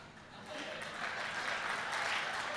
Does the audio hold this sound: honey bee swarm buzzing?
no